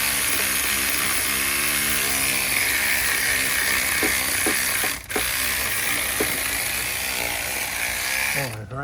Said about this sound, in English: Oh, the ratchet stuck.